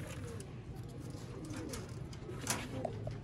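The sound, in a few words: pigeons cooing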